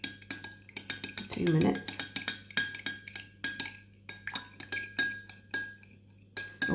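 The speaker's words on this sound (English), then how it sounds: "So you just stir all different directions." A spoon stirs a rum-scented liquid wax melt mixture in a bowl, giving repeated light clinks and scrapes in an uneven rhythm, close by, while a person talks over it.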